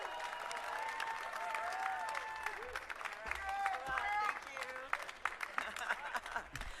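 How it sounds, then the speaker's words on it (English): A crowd claps and cheers at Chris Hemsworth's Hollywood Walk of Fame ceremony, with sustained applause and shouting mixed with voices calling out, moderately distant. "loudest, rowdiest crowd we've ever had for Chris Hemsworth"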